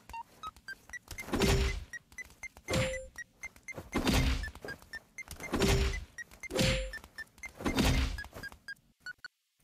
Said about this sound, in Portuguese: Quando a Jury tá mais perto, o som fica mais ativo